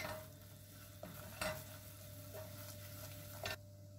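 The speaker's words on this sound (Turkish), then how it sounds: "Orta ateşte yavaş yavaş unu kavuruyorum" Flour being slowly stirred and roasted in a pan over medium heat, with soft scraping strokes and a faint steady sizzle, quiet and close, a few louder scrapes standing out.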